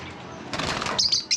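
Birds chirp in an aviary, short high tweets arriving in two quick bursts near the end, with a brief flurry of wing flapping just before them, close and fairly loud, no voices.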